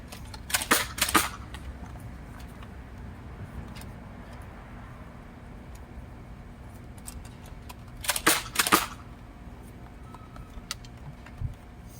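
A Nerf Split Strike blaster firing foam darts outdoors, heard as two short bursts of sharp rapid snaps several seconds apart, with quiet background ambience in between.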